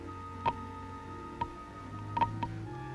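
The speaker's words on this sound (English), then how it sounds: "Something's ticking." An armed atomic mine ticking in an old radio drama, a few sparse, sharp ticks spaced irregularly over a low steady hum, faint and without speech.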